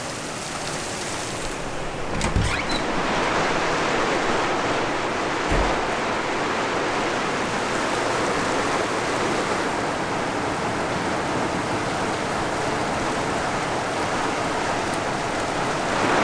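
Hail pours steadily onto a house roof and gutters, a dense, loud, continuous rattle and hiss with a couple of dull thumps early on.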